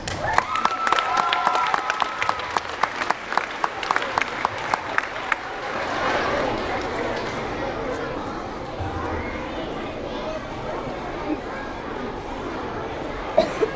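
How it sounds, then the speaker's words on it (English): An audience at a school Veterans Day assembly claps for students, starting with crisp rhythmic clapping and a brief tone, then dissolving into a looser wash of applause mixed with crowd chatter and children's voices. "One more big round of applause, please, for these."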